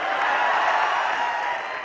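Steady audience applause after a poem recital at a poetry gathering, a dense even wash of clapping lasting about two seconds with no pauses.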